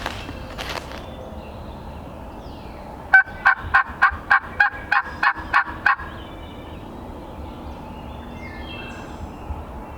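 A wild turkey gobbles once in a rapid, rattling burst of about ten quick notes, distant and faint, about 100 yards off in a Pennsylvania woodland bottom, against a quiet outdoor background.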